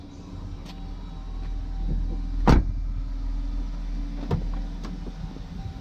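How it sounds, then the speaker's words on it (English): A powered seat in a Jeep Grand Cherokee whirs with a low, steady motor hum inside the cabin, punctuated by a few sharp clicks and a brief thump. "This is a powered seat"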